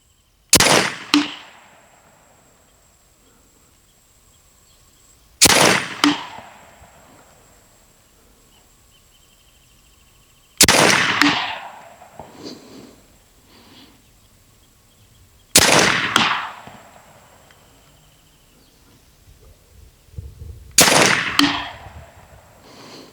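Five sharp shots from an Edgun Leshiy 9mm air rifle ring out at regular intervals about five seconds apart, each a loud crack with a short decaying tail, separated by quiet outdoor background.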